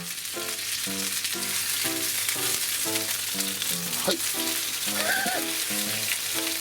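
Eggplant gyoza steak, with meat filling pressed between eggplant slices, frying in a pan, giving a constant close sizzle with light crackles and faint tonal notes in the background.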